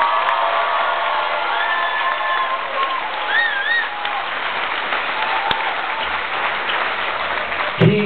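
Audience at a Norwegian Jewel cruise ship farewell show applauds and cheers steadily for the ship's captain, with dense sustained clapping, scattered whoops and a loud voice heard over the crowd.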